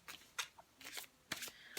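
Tarot deck, the Tarot Apocalypsis, being shuffled in quick riffling bursts of papery card slaps, close and fairly quiet, with no talking.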